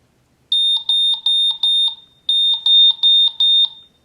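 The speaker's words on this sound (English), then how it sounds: "Well, that alarm is certainly powerful." A 2011 New York Mets LED alarm clock sounding, a loud, close, piercing electronic beeping in two repeated bursts of quick pulses separated by a short pause.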